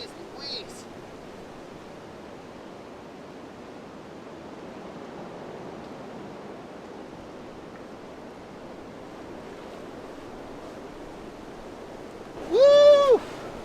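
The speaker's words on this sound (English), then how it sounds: "There is some crazy wind and snow coming in here." Strong wind roars steadily at a winter campsite during a sudden snowstorm, a broad rushing noise throughout, with a brief voice exclaiming near the end.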